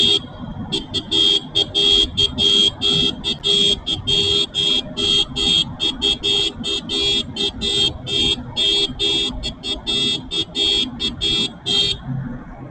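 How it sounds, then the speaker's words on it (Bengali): Vehicle horns honk in rapid, uneven bursts inside a long road tunnel on a drive toward Ladakh, the blasts loud and close, overlapping and echoing over a steady rumble of traffic for the full stretch. "এনজয় করে নিই হর্ন নিয়ে।"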